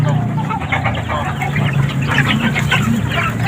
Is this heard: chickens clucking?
yes